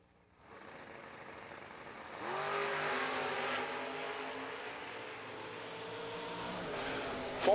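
Drag race launch of Jacob Decker's Camaro and Kenny's car, engines swelling from a low rumble into a loud sustained roar with climbing revs, ending in a sharp louder burst.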